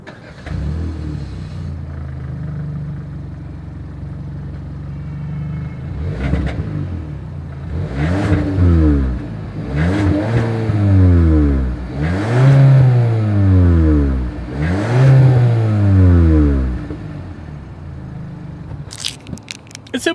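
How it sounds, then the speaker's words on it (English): A 2021 Hyundai Sonata midsize sedan's exhaust revs repeatedly, several rising and falling blips of engine note in quick succession, loud and close, settling back to a steady idle between. "As always, here is that exhaust clip."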